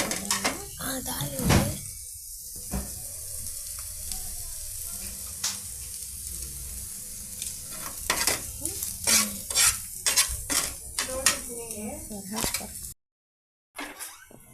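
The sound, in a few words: chapati frying in oil in a pan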